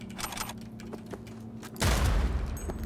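Gunfire rings out in the Cyberpunk 2077 video game: a series of sharp shots pops across the first part, then one big cannon-like blast lands with a long, booming echo.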